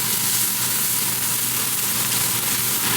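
Steak frying in oil in a pan just after being flipped, giving a steady, loud, continuous sizzle with no breaks and no talk.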